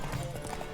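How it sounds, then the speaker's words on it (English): Horse hooves gallop during a horse race in The Witcher 3: Wild Hunt, a quick drumming clatter heard briefly at moderate volume, with faint talk mixed in. "it's just a pretty standard horse race"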